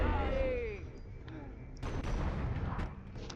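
Gunfire in a video game, with booming shots and rumbling bursts of fire mixed with game sounds, fairly close, with a voice talking over part of it.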